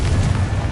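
Confringo fire blast spell from the Hogwarts Legacy video game, a short, deep booming burst with a low rumble, close and loud, with no voices.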